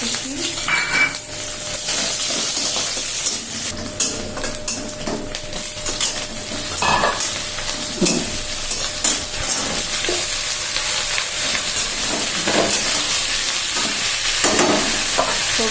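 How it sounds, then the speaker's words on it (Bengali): Onions and panch phoron spices fried in very hot oil in a pan for a mixed vegetable dish, a steady loud sizzle with repeated stirring scrapes and pan clinks throughout, close up. "তেল গরম হয়ে গেছে খুব পাঁচ ফোড়ন দিয়ে পেঁয়াজ"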